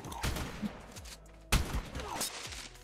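Automated turrets inside a cave in ARK fire in sharp, echoing bursts, a couple of heavy reports about a second apart with reverberant tails, fairly loud and without speech.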